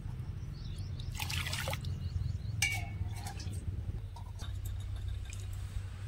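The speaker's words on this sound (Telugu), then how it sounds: "కడిగి పెట్టుకున్న కందిపప్పులో కొన్ని నీళ్లు పోసి" Water pours into washed toor dal in a pot, with brief splashing gurgles and drips over a low background hum.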